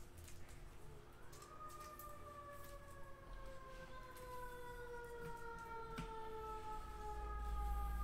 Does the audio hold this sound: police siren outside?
yes